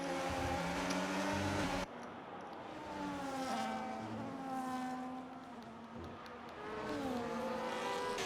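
A Ferrari race car in an Australian race screams through its gears, loud and close, with rising and falling engine whine and a shift partway through; no one talks.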